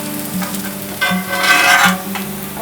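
Dosa cooking on a hot tawa, a close, steady sizzle with scraping and stirring strokes that come and go over the frying.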